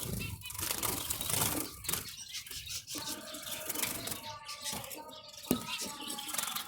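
Java sparrows flutter inside an aviary while carrying grass, giving soft, irregular bursts of wing flapping and light rustling with faint chirps, fairly quiet and close throughout.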